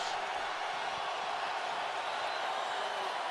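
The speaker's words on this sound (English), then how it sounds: "Crowd buzzing with defense" Steady, dense roar of a stadium crowd at an NFL game between the 49ers and Texans, a continuous broadband buzz with no distinct cheers or individual voices standing out.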